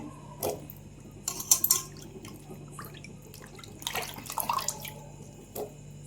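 Water sloshes and drips in a few soft, scattered splashes as raw bananas are washed in rice water, with a low steady hum underneath and long quiet gaps.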